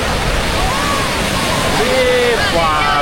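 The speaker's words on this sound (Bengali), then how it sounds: "ওই দেখুন পাশে কত বড় বড় ঢেউ।" Heavy surf on the sea at Puri beach, India, roars in a constant loud rush of crashing water, with faint whistling tones drifting over it.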